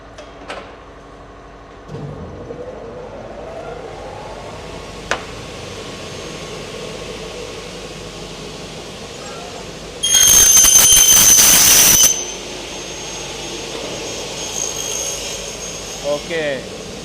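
A machine cuts a uPVC window profile at a 45-degree angle, giving a loud, dense burst of about two seconds that stands out from a quieter workshop background. Faint talk can be heard before and after the cut.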